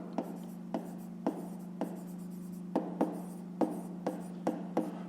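Pen writing by hand during a fifth-grade maths exercise, a run of short scratchy strokes at a steady pace, close and fairly quiet, over a constant low electrical hum.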